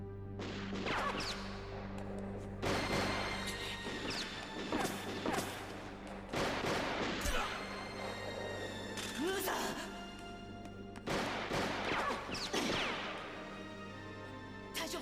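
Gunfire in a Gundam SEED anime battle: repeated loud, sharp crashing bursts at irregular intervals over a busy soundtrack, with voices talking throughout.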